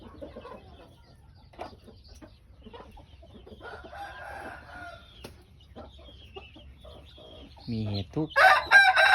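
A rooster crows loudly near the end, after a stretch of quiet talking and faint background clucking.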